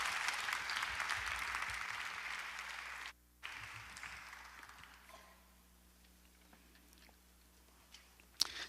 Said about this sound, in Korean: 우리 강사 목사님 나오실 때 박수로 하나님께 영광 돌리시고 은혜 받으시길 바랍니다.